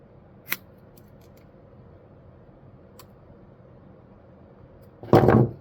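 Scissors snip the excess recoil starter rope on a Honda GX160 engine. There is a sharp snip near the start and a faint click midway. At the end comes a louder, closer crunching cut through the cord, in a quiet room.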